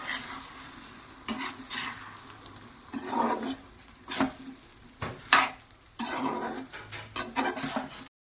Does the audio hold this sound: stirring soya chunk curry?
yes